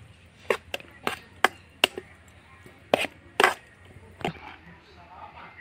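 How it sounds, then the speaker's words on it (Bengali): A knife chops food on a board with a series of sharp, close knocks in an uneven rhythm, about a dozen strikes with short pauses between them. "আমি এইভাবে একটু করে কাটবো।"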